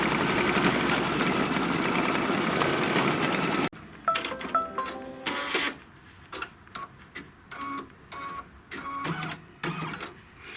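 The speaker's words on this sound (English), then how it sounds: "this is just going to be a tight little satin stitch right on the inside of this to hold the fringe down" An embroidery machine runs a tight satin stitch to hold down fringe, heard as a dense steady mechanical whir that cuts off abruptly, followed by scattered clicks and short bursts of stitching.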